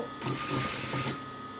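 A sewing machine stitches a garment side seam in one close, steady burst of rapid mechanical whirring that lasts about a second, then stops.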